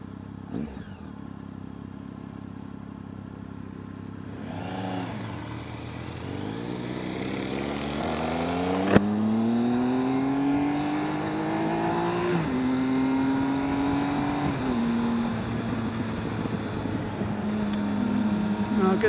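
A 2013 Triumph Speed Triple engine pulling hard while riding, its pitch climbing steadily through the gears with a shift partway through, loud and close, wind noise underneath.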